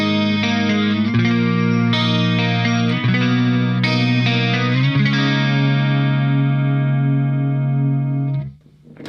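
A chorus pedal in the effect loop of a clean guitar amp widens sustained sus-type chords with a subtle shimmer, several strummed chords ringing out loud and clear with no talking.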